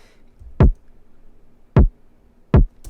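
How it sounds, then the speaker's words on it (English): A trap kick drum with overdrive hits three times, each one a punchy, booming thump with a quick downward sweep, spaced about a second apart over near silence. "I'll show you the difference between a kick with overdrive."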